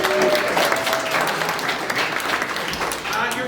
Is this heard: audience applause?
yes